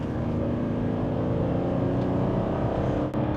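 A Honda Legend engine drones and revs loudly and steadily up close while accelerating, a dense continuous roar that dips briefly near the end.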